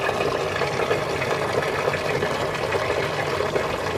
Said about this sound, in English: water's still coming down off of it